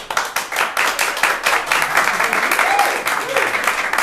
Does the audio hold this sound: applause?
yes